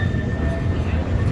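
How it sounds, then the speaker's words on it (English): Famous Manchester tram passing close by in the city: a steady low rumble with a faint high whine running through it, continuous and fairly loud across the moment. "Here's a tram, famous Manchester tram"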